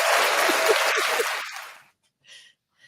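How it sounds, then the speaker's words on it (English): A short burst of crowd applause on a fan livestream, dense clapping for under two seconds that fades out abruptly, followed by near silence and a faint brief sound. "Man, we got to clap that"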